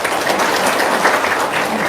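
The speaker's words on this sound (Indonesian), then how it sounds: "Tepuk tangan dulu dong" A room of seminar guests breaks into dense, steady applause, many hands clapping together at close range for the whole short stretch with no pauses.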